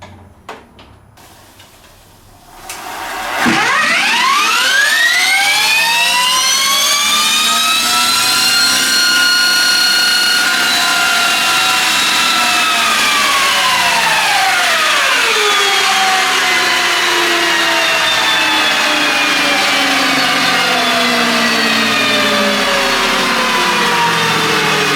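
An Energica EGO RS electric motorcycle pulls away hard, its motor whine sweeping sharply upward in pitch over about a dozen seconds, then settling into a high steady tone at speed, loud and close with no talk.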